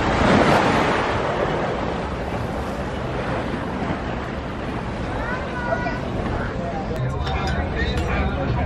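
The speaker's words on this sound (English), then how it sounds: "Give you a little soothing sneak peek at the ocean here." Ocean waves surge steadily along the coast of Catalina Island, a loud continuous roar mixed with wind buffeting the microphone and faint voices.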